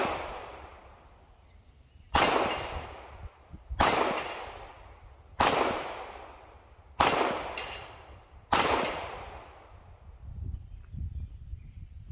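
Five sharp pistol shots from a Smith & Wesson 3913 with an aluminum frame, fired at steel plates outdoors, each a crisp crack with a decaying tail, spaced roughly a second and a half apart and heard at moderate distance.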